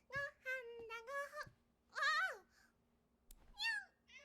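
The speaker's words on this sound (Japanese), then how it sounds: "Got the cat." Several meows from a cat in an anime film, alternating between a run of three quick calls and longer, rising cries, close and clear against a quiet background.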